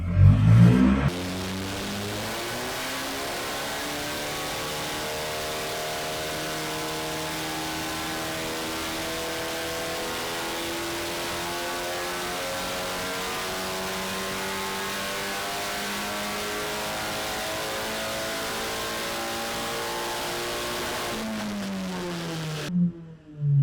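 A Volkswagen Caddy engine with its turbo on holds a long, steady rev during a tuning run, a loud, continuous drone with rising and falling harmonics that fades in at the start and drops off at the end.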